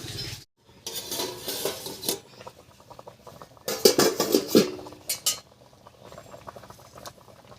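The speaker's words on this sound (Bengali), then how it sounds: "এবার ঢাকা খুলে নামিয়ে নিচ্ছি" A lid comes off a pot of steamed masoor dal dhoka and the pot is lifted from the heat, with clanks and metallic rattles in bursts, then quieter handling noises.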